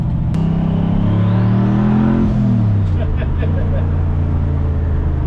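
A twin-turbo LS V8 in a Mk1 Ford Escort revs hard from inside the cabin, a loud droning engine note climbing then dropping as the gear pull ends, with turbo whine and a person talking over it.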